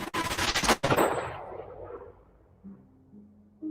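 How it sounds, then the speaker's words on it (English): Gunfire in a video game trailer: a loud rapid burst of shots, then a sharp crack whose echo decays into quiet. "the gunshot."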